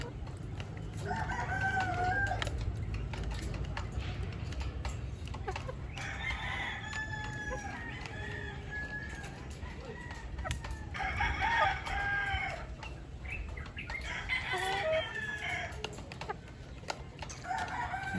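Laying hens at a gamefarm clucking in several bursts over a steady low background hum, with a rooster crowing at times; no talking.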